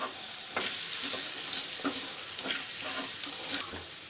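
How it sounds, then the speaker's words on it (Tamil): Onion and carrot sauté in a pan for poha upma, giving a steady, hissing sizzle. A spoon stirs and scrapes the pan in a regular rhythm of soft knocks about every half second. "வெங்காயம் கேரட் நல்லா வதங்கிடுச்சுங்க."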